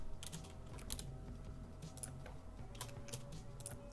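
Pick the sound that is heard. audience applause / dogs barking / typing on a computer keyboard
typing on a computer keyboard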